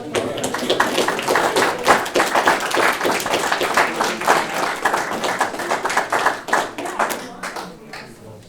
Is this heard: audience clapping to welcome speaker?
yes